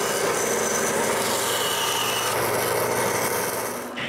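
A blade rasps steadily through the handles of cheap plastic scrubbing brushes, a continuous, close, gritty sawing that runs without pause and stops abruptly at the end.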